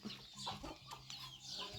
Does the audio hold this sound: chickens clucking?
yes